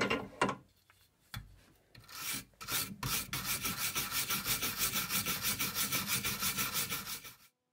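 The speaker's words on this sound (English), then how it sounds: "I want to try it on two different surfaces to see how this wire brushing technique works" A wire brush scrubs across a wooden furniture surface to texture it, starting with a few scattered scrapes and then settling into quick, regular back-and-forth strokes close by.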